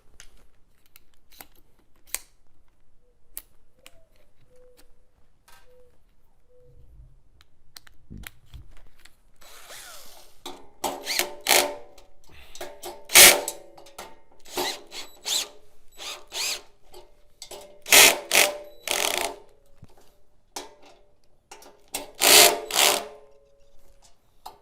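Short bursts of a power drill on a clutch setting driving screws while assembling an outdoor patio propane pyramid heater, with clicking ratchet pauses between runs, close and fairly loud.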